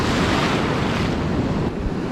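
Ocean waves breaking on an empty beach at Wade Creek, a continuous loud wash of surf with wind rushing across the microphone, no voices.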